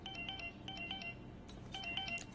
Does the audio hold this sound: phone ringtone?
yes